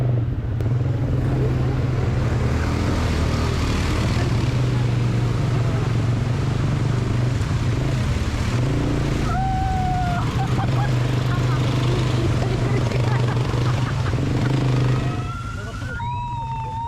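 ATV quad bikes riding through water and mud in Bali, a steady loud engine drone close by with revving rises and a few high whines, no talk over it.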